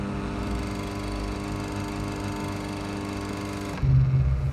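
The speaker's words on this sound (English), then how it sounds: "Once I click OK, you'll hear a whir, and that's the burrs adjusting." A Mahlkönig coffee grinder's burrs adjusting gives a steady, close mechanical whir that holds evenly, then stops abruptly and a louder low hum briefly takes over near the end.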